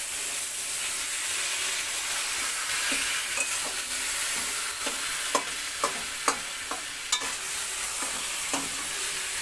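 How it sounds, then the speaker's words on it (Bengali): Hilsa fish head with taro greens, green chillies and tomato being sautéed over a wood fire, a steady frying sizzle and hiss with intermittent sharp scraping clicks of a stirring spatula, close and alone. "বেশ কিছুটা সময় নিয়ে এটাকে ভালোভাবে কষিয়ে নিতে হবে"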